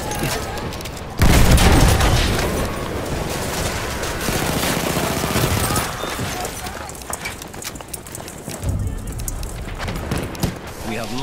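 Explosions and gunfire in a war video game with cavalry, a loud boom near the start followed by dense, continuous battle noise of shots, blasts and hoofbeats, with voices speaking through the din.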